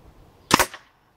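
A Black Ops Soul Langley air pistol fires a single sharp, close pop with a brief snappy tail during target shooting at 20 metres, otherwise quiet.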